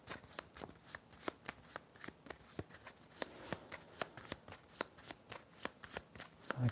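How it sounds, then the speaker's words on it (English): A deck of cards being shuffled for a tabletop war board game, with a quick run of sharp riffling bursts repeating steadily and close, no talk over it. "Okay, shuffling the deck."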